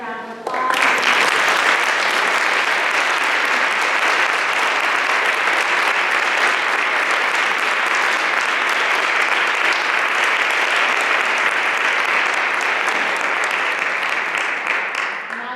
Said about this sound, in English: I'd like to give Eliza and Susan a big round of applause.